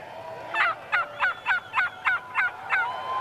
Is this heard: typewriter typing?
no